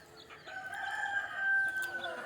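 A native country chicken gives a drawn-out, tonal call, steady and moderately close, over a quiet background with no speech.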